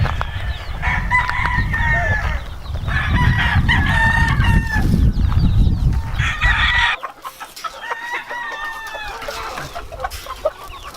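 Gamecock roosters at Greenville Farm in California crow repeatedly in long rising calls, several birds overlapping at close to middle distance, over steady background noise that drops away partway through, with clucking between the crows.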